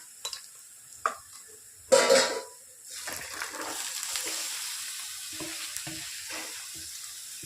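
Cut ridge gourd is tipped into a pan of softened onions: a few sharp clanks and a loud splashy burst, then a steady close sizzle of frying with light stirring scrapes.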